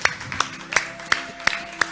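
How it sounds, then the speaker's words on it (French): A church congregation at a Sunday service claps in a slow, even rhythm, sharp individual claps spaced about a third of a second apart over a faint sustained tone. "Can we put our hands together for the Lord?"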